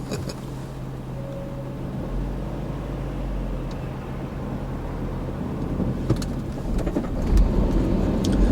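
Car engine idling and pulling away during a hill start on a driving lesson, a steady low rumble heard from inside the cabin with a slight swell near the end.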